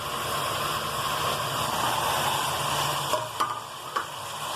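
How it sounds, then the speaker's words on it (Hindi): Whole spices — cumin, cloves, cinnamon pieces and black cardamom — roasting and being stirred in a pot for nihari, a steady close sizzle with a few scraping spoon knocks near the end. "और अच्छे से मिक्स कर लूंगी। भुनाई कर लेनी है अच्छे से।"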